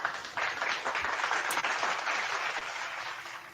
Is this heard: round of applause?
yes